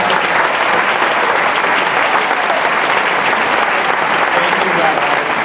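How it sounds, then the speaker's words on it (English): A warm, dense round of applause for Rabbi Ed Feinstein at a Jewish Republican Alliance evening, loud and sustained, a steady wash of clapping from a large crowd throughout. "Please give a warm round of applause for Rabbi Ed Feinstein"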